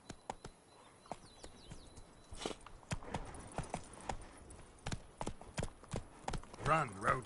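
Roach, the horse in a video game, gallops with a quickening run of hoofbeats that grows louder toward the end, heard over quiet game ambience and under a voice talking.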